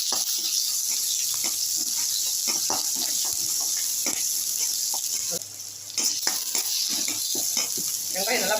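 Chopped onions with curry leaves sizzle and fry in a hot pan for aval upma, a steady bright crackle running throughout with scattered clinks of stirring.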